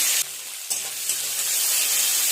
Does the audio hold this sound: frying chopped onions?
yes